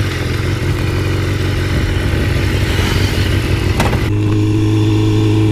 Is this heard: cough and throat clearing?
no